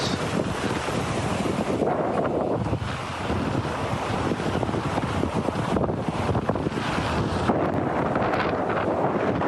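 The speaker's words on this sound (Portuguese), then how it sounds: "O vento é muito forte." Strong wind blasting across the microphone while crossing a bridge near a Tibetan village, a continuous loud rushing roar with gusty surges and no speech.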